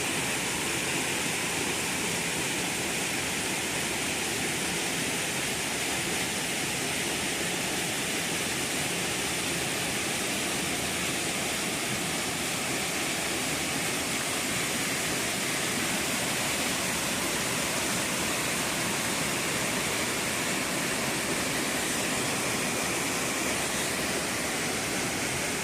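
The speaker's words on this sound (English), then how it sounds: "you can tell by the noise that there's more to this waterfall than I'm showing you" A waterfall in a Scottish garden roars steadily and loudly without pause, a dense hiss of rushing water close by.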